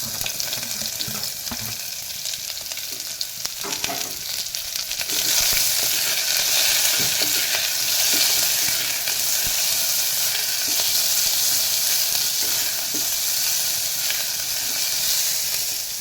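Onions sautéing in a pan for a vegetable biryani, with a steady broadband sizzle and crackle that grows louder after the first few seconds and then holds constant. Occasional stirring clicks sound throughout, and nobody speaks.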